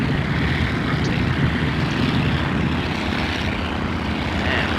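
A Spartan Executive propeller plane takes off in Flight Simulator X, with a loud, steady engine and propeller drone that holds strong and even throughout, with no talking.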